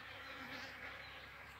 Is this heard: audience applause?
no